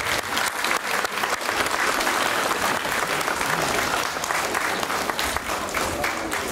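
Sustained applause from a school gathering marking the opening of the school year, a large crowd clapping steadily and loudly for several seconds as a farewell to a departing staff member.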